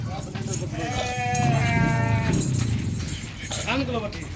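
Goats bleat repeatedly and loudly up close while being caught at a goat sale in Jhelum, with the wavering calls overlapping people talking nearby.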